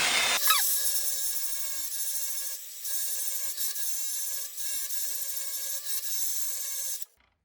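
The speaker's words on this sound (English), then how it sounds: "Let's spin our wheel." A polishing wheel spins steadily on a machine after sanding, giving a sustained whirring hum with a bright high whine that runs evenly for about seven seconds before winding down abruptly.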